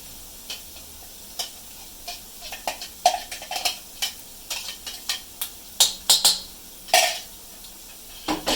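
Onion cooking in oil in a pan for chicken curry, heard as a soft background sizzle broken by frequent sharp clicks and knocks of a utensil against the pan, close and irregular, without talk.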